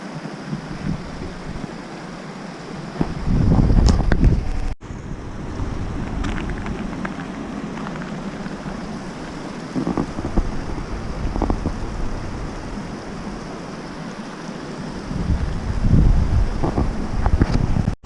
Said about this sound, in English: Well, we got a river on both sides.